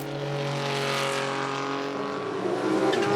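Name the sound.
Porsche race cars driving on track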